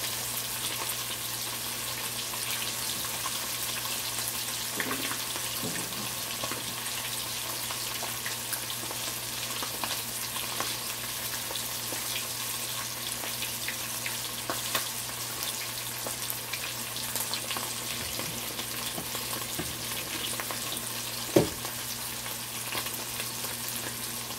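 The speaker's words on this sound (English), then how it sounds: "I think I'm just gonna fry the other two all because everybody get a fish." Snapper and jack fish frying in hot oil, giving a steady, soft sizzle that runs the whole time with faint splatters and a single sharp pop near the end.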